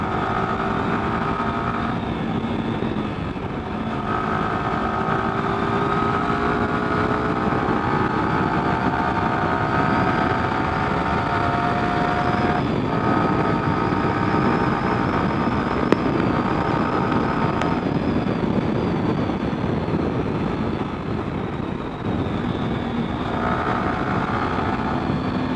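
A vehicle engine drones steadily while driving a curvy road, its pitch shifting as gears are dropped for a bend, loud and close over continuous road and wind noise without talk.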